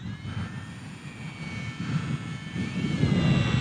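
An Eachine Mini P-47 RC warbird model plane flies overhead with a steady, buzzing electric motor drone that swells slightly louder toward the end, over light outdoor wind noise.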